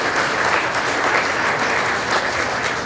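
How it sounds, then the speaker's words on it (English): Guests at an annual awards celebration dinner clap together in a close, steady burst of applause lasting a few seconds, with no voices on top. "So big round of applause for the Oaks."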